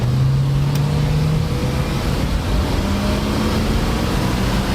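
A 1973 Ford Ranchero's 351 Cleveland V8 idling steadily nearby, a loud continuous low rumble with a faint whine, no voices present.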